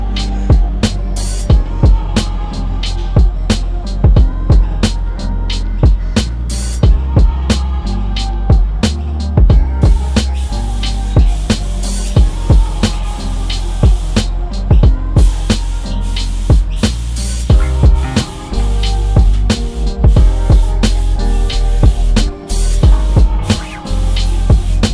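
KBS paint is sprayed onto a truck chassis, giving a steady hissing rush broken by frequent short pops and clicks. The sound is close and loud, with no talk.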